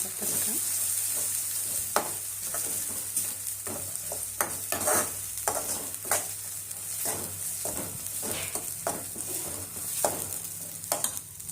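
Ground masala for a vegetarian gravy sizzles steadily in a pan while a utensil scrapes and stirs in repeated strokes, close and fairly loud, with no voices.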